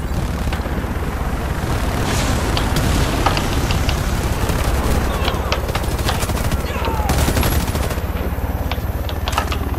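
Continuous heavy gunfire in Warface, a dense roaring wall of rapid shots and blasts that never lets up, loud and close throughout with scattered sharper cracks mixed in.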